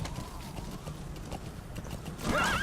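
A horse gallops and leaps in the video game Metal Gear Solid V, its hooves clip-clopping in a steady rhythm before a short, bright whinny near the end.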